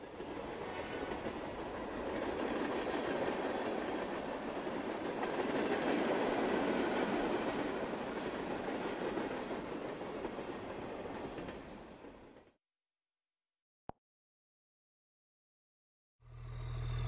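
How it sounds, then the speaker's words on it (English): A train runs along the rails with a loud, steady rumble and rhythmic wheel clatter for about twelve seconds, then stops abruptly into silence. "Some trains travel short distances, and others travel across entire countries."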